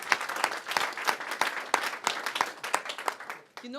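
An indoor audience at a business event claps steadily for a speaker named Kristen, a dense, moderately distant round of applause that ends in about three and a half seconds, with a voice starting at the close.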